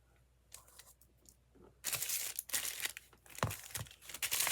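Paper pieces for an autumn tree craft made from an old book being cut and handled, with rustling, crinkling and crunchy snipping that grows louder and denser after a quiet start, close and without talk.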